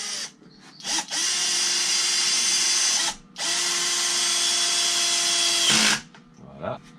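A power drill drives screws into wooden easel parts in two long, loud whirring runs of about two and three seconds, separated by a brief pause, with short motor blips before and after.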